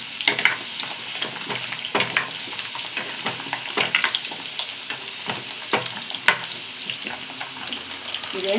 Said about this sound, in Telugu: ఇది మంచి బ్రౌన్ కలర్ వచ్చేంత వరకు ఫ్రై చేసుకోవాలి.